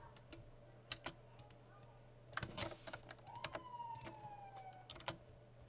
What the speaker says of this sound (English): There is apparently a police siren somewhere around me.